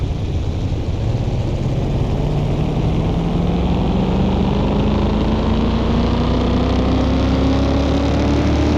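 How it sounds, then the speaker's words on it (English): A NASCAR seventh-generation V8 engine in Car Mechanic Simulator revs steadily, a loud continuous droning roar whose pitch climbs slowly throughout, with no talk over it. "That V8 sounds good."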